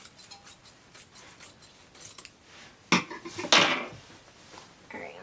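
Scissors snip through vintage handkerchief fabric straight down the center, a few soft cuts followed by two louder, crisper shearing strokes near the end, close and alone without talk.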